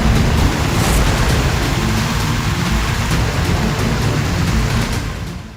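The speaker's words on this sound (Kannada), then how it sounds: "ಮೈಸೂರಿನಿಂದ ಬೆಳಗಾವಿವರೆಗೂ ರಣಮಳೆ ಸುರಿಯೋದಕ್ಕೆ ಶುರುವಾಗಿದೆ" Heavy monsoon rain pours down in Karnataka, a loud dense roar of falling water that holds steady almost throughout and eases slightly in the final moment.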